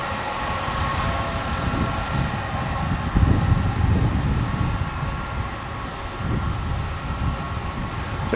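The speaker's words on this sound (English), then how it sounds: "There goes a train." A train to or from Fort Worth rumbles past near DFW International Airport, a steady broad roar that swells slightly midway and holds for several seconds, with no talking.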